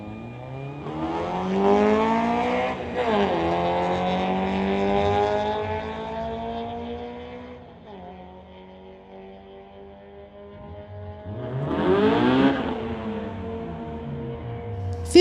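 Drag race at a street-legal event between a Honda Integra and a Toyota, engines revving high through rising and falling gear changes, loud up close, fading, then roaring again as another pass sweeps by, no talk.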